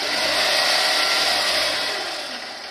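Toyota Tarago with a 2TZ-FE engine revving, a sustained whirring roar heard up close and alone that holds steady before easing off.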